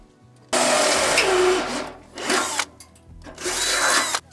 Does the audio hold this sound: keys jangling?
no